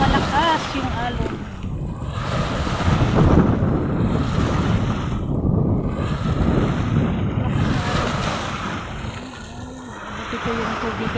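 Rough, surging sea surf rolls and crashes continuously, mixed with heavy wind buffeting the microphone, while voices talk faintly underneath.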